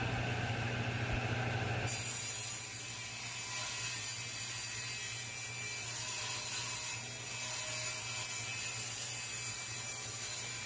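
A hand saw cuts a piece of scrap shelf board for a backer board, with steady rasping strokes going on throughout, close and fairly quiet.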